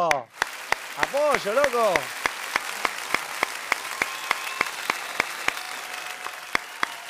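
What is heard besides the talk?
audience applause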